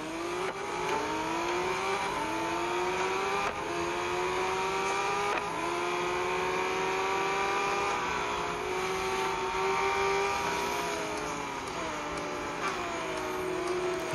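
A four-wheel-drive Lamborghini engine revs loud and continuous in a racing video game, pitch climbing and dropping through repeated gear changes, with no talking.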